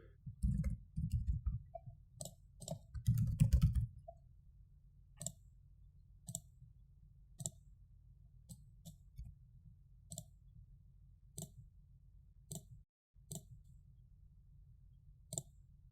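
Computer mouse clicks while right-clicking in CostX software, a series of sharp, close, isolated clicks spaced irregularly, with a denser cluster of handling noise near the start and quiet between the clicks.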